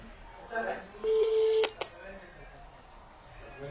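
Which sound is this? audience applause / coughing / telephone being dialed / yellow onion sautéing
telephone being dialed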